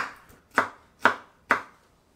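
Bamboo shoots chopped with a knife on a board for hot and sour soup: three crisp, evenly spaced thuds near at hand, each with a short decay, preceded by a faint lighter tap.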